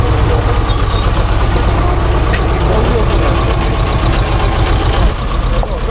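A stuck tractor's heavy diesel engine rumbles loudly and continuously up close, a deep steady throb with rattling mechanical noise on top.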